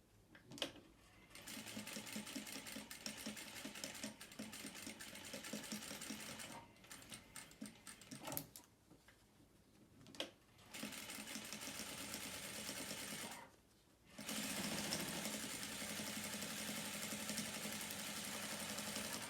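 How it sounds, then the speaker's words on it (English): A sewing machine runs a second line of stitching along the edge of a fabric face mask, buzzing in steady bursts separated by brief pauses, close and clear with no talk. "I'm going to do another line of stitching about 1/8 of an inch in from that first line of stitching"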